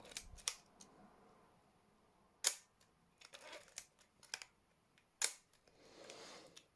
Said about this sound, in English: once or twice a month just to wind it on and fire it